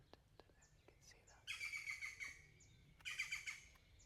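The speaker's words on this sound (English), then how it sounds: "the birds are highlighting that" Birds call and squawk in the background in two lively bursts of chirping, with scattered single chirps between them over quiet ambience.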